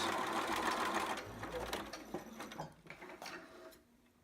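Sewing machine running a short back stitch while sewing a two-piece baby sitter outfit, a steady close mechanical whir that slows and fades toward the end; the machine is due for maintenance.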